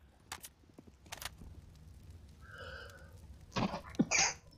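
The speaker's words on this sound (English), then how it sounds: "You shouldn't hold in sneezes, man. It's bad for you." Someone stifles a sneeze during a Counter-Strike: Global Offensive match, a short muffled burst near the end preceded by a few faint breaths and small clicks.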